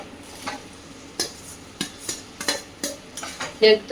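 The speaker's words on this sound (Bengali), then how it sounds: "এই যে মশলাটা কষে নিচ্ছি এখন আলুগুলো দিয়ে দিচ্ছি" Powdered spice masala is stir-fried in a pan and boiled potatoes are added, with a spatula scraping and knocking against the pan in repeated close strokes over a soft sizzle and no talk.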